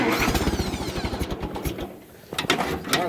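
A Massey Ferguson tractor engine cranks and catches in snowy winter conditions, loud rapid chugging pulses that dip briefly before the engine picks back up.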